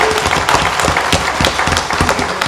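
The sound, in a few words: applause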